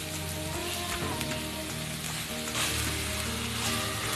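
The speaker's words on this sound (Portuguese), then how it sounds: "vamos colocar a carne moída" Ground beef being pressed into a hot pan and frying, a dense continuous sizzle with crackles and spoon scrapes throughout, close and fairly loud, with no talking.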